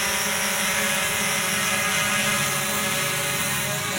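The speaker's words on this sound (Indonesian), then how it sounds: "drone sekarang hover, biarkan beberapa detik, sekitar 10 detik supaya lock GPS" A Fimi X8 SE drone hovers nearby, its propellers giving a loud, steady, unbroken whine and buzz that stays even throughout.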